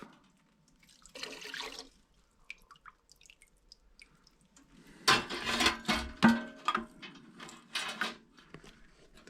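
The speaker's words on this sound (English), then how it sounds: "we have to fully rinse all the parts that were in the cleaner" Water runs and splashes in short bursts as air-cooled VW engine parts are rinsed after soaking in cleaner, with a brief gush early on, then a longer spell of irregular pouring and dripping mixed with small knocks.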